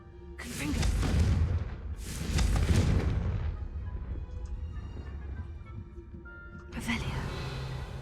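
A Confringo fire spell in Hogwarts Legacy bursts in two heavy booming blasts with rumbling tails, followed by a third sharper explosion, all loud and close.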